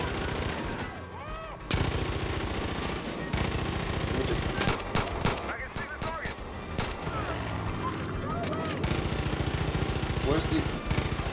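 Rapid gunfire in the shooter game Far Cry 5, dense bursts of automatic shots and booms layered with game noise and a talking voice, loud and nearly continuous.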